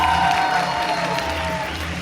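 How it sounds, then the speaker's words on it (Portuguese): An audience applauds an award-winning aesthetics professional introduced at an ENEM education event, steady clapping and crowd noise filling the whole moment over a low background hum. "Eu peço os aplausos para Dr."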